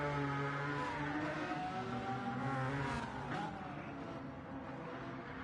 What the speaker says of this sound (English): just high-speed cars.